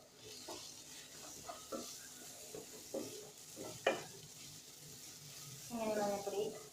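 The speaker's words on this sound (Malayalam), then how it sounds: "ഇങ്ങനെ മഞ്ഞപ്പൊടി നന്നായിട്ട് ഒന്ന് മൂപ്പിച്ചെടുക്കട്ടെ" Turmeric powder and masala sizzle in a hot pan for Kerala-style masala dosa filling, a soft steady frying hiss with occasional scraping stirs and a louder sizzling burst near the end.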